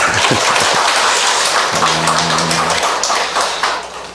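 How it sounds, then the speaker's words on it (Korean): Congregation applause during a Wednesday morning church service, a dense, steady wash of clapping that carries loud through the whole stretch, with a short sustained tone briefly rising beneath it midway. "한번 박수 한번 줍시다"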